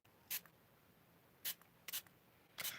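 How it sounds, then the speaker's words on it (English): Four short, sharp hisses from a hand-held water spritzer misting pigment powder, spaced irregularly over quiet, close and crisp. "when I'm spraying the spritzer, the force of the water going onto the powder"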